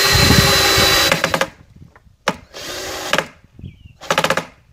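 A power drill drives screws into wooden cornhole boards in several short bursts of buzzing, one long run followed by a quick blip and two more whirring spurts, with brief quiet gaps between them.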